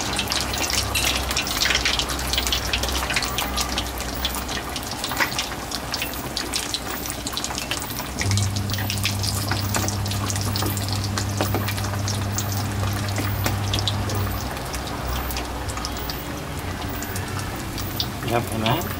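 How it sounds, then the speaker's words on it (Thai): Pork pieces deep-fry in hot oil, a steady dense crackling sizzle that runs throughout at moderate level, with a low hum underneath. "จะนำชิ้นที่สองมาทอดนะครับ"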